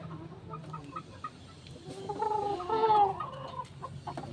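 Chickens being handled, with soft clucking and low chattering throughout and a louder, busier burst of calls near the middle, close by.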